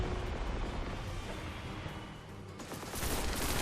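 Gunfire from the video game Destiny: The Taken King comes as a dense, unbroken roar of rapid shots and blasts. It grows louder and brighter near the end and has no talking over it.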